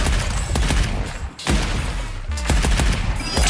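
Gunfire from a milligrade grunt assault rifle shooting sapper bots in the arcade shooter Arcadegeddon. Loud, close rapid bursts of automatic fire run almost continuously, broken by a brief pause and a second short gap.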